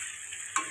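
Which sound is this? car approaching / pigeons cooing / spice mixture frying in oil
spice mixture frying in oil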